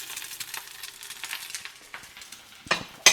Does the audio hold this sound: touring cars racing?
no